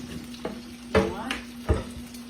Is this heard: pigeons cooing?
no